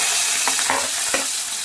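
Chopped garlic frying in hot oil for a dheki shaak dish, a loud, dense, steady sizzle with a few brief stirring scrapes, close up.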